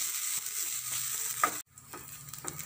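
Grated coconut sautés in a pan, browning with a close, steady sizzle. Several short scraping stirs interrupt the sizzle, and there is a brief hush partway through.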